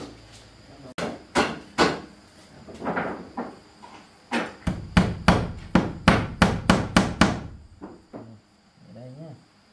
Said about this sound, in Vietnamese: bác lấy đinh rồi, bác đóng đinh rồi.